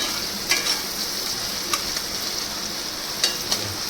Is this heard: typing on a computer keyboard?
no